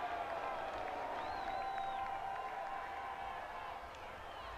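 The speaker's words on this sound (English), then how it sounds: "the crowd here at Centennial Bank Stadium trying to prod the defense on to get off the field here" Crowd noise at Centennial Bank Stadium during an Appalachian State at Arkansas State college football game, fans urging the defense on, a steady, distant roar with scattered cheers throughout.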